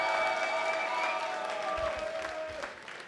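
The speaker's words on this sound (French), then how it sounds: "Attendez, un applaudissement." An audience at a cosplay contest claps steadily and fairly quietly while a sustained musical tone plays underneath, the applause thinning toward the end.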